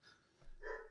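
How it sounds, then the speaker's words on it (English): A dog barks indoors somewhere in the house, a short, faint yelp-like burst that rises toward the end of the moment, with no talk over it. "Sorry about the dog barking in the"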